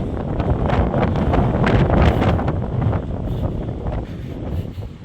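Strong wind blows hard and close on a beach, a loud continuous rushing roar that swells and eases slightly, with no voices.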